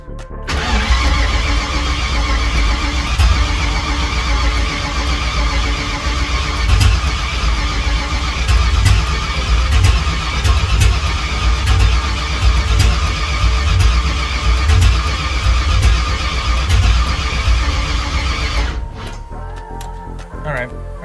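A Ford Fox Body Mustang's engine cranks continuously for many seconds with a rapid, rhythmic churning, loud and close, without catching, then stops.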